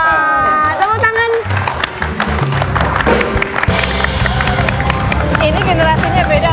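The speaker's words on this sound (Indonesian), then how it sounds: "Tepuk tangan." A television talk-show studio audience applauds, dense clapping rising under music and overlapping voices, staying loud to the end.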